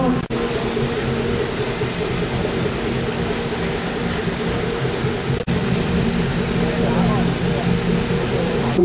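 A curtain of water pours off the Naresuan bridge in a continuous, dense rushing roar that stays even throughout, with a couple of brief dips.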